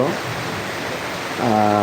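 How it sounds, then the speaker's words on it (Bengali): Sudden heavy evening rain falling at night: a steady broadband hiss of downpour fills most of the moment before a voice begins speaking near the end. "হঠাৎ করে এই বৃষ্টি শুরু হয়ে গেছে"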